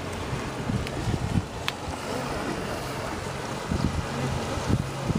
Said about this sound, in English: That is one cool boat